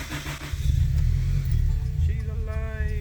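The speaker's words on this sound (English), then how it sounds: "the next step will be to start the car" A Scion FR-S engine cranks and catches, then revs up and settles into a rough idle, close and loud, with a voice speaking briefly over it.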